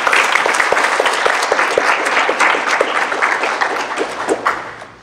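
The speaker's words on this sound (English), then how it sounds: "Can we all give them a round of applause?" Audience clapping for Leadership Academy graduates at a Shreveport city event, a steady dense round of applause that holds through and tapers off at the end.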